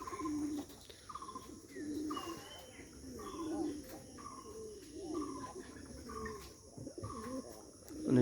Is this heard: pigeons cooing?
yes